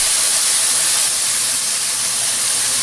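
Bean broth poured into a pan of fried rice for arroz curtido, raising a loud, steady sizzling hiss that fills the whole moment with no break and no talk.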